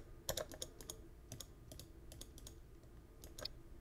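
Computer keyboard keys are pressed one after another to trigger MIDI notes in Ableton, making quiet, close clicks and taps in an irregular run of about a dozen strokes with no voices.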